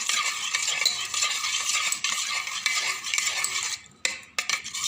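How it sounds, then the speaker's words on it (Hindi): A spoon scrapes and clinks steadily around a bowl, mixing yogurt with a brisk, continuous rhythm, close up. "मैं इसे चम्मच के सहारे अच्छे से मिला लूँगी"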